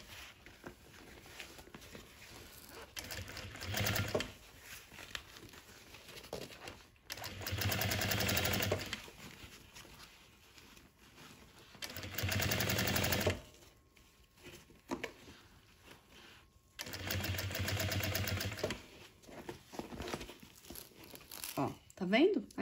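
A sewing machine stitches fabric for a handbag in short, loud runs of rapid whirring, separated by quieter pauses while the piece is turned.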